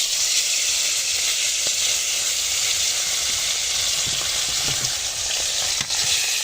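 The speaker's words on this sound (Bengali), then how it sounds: "এই যে মাছ ভেজে নিচ্ছি।" Fish frying in hot oil in a wok over a wood-fired clay stove, a steady loud sizzle with crackles and pops throughout and no talking.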